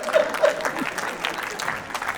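An audience at a poetry event claps in a steady, dense patter that fills the room, with a few louder claps near the start, while a voice talks over it.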